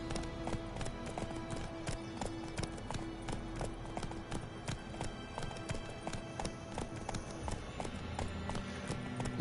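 Roach, the horse in The Witcher 3, gallops in a steady rapid clip-clop of hooves, close and loud, over game background sound with no talking.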